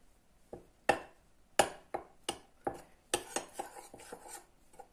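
Tapioca starch mixed in a bowl with a utensil, giving a close series of sharp clinks and taps against the bowl, irregular in rhythm and growing denser toward the end.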